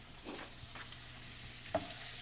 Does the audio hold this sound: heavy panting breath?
no